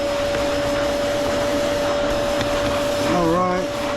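A vacuum cleaner drones steadily and loudly while cleaning a Rayburn cooker with a boiler, its motor pitch wavering briefly near the end.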